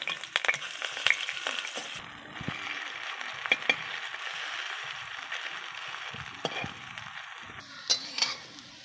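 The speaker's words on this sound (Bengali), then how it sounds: "এই ভাজার সময় খুব আস্তে আস্তে জাল দিতে হবে বন্ধুরা" Greens pakoras fry gently in mustard oil over low heat, a soft continuous sizzle broken by a few clinks and scrapes of a utensil stirring in the pan, close and without talk.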